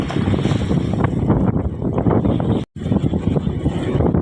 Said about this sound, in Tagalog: Ay, lakas ng hangin dito.